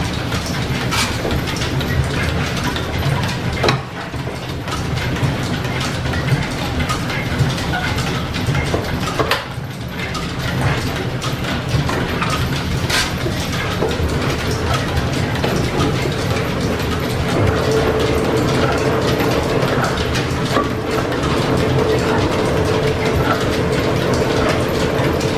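A gearbox runs in an old steam-powered machine shop driven by lineshafts, giving a steady dense clatter of meshing gears and ratcheting mechanism, continuous and close with occasional louder knocks.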